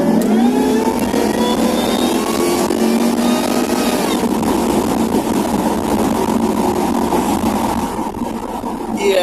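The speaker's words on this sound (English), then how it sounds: "if you want to hear more of that supercharger whine" Car engine with a supercharger and modified air ducts and intake, revving loudly and steadily with a rising mechanical whine over engine roar, close up and continuous, with no talking.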